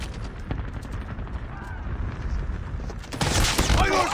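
Gunfire in Call of Duty: Mobile: dense, rapid bursts of shots and cracking impacts throughout, getting louder and busier toward the end, with battle noise filling the background.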